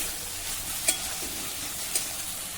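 Capsicum and tomato sautéing in a pan, a steady close sizzle with two brief sharp clicks of a spatula against the pan.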